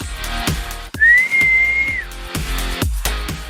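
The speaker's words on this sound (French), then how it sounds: "Il sortit alors un énorme sifflet rouge de sa poche et souffla dedans de toutes ses forces." A single shrill blast on a large red whistle blown hard rings out for about a second, loud and steady, amid rhythmic thumping background music.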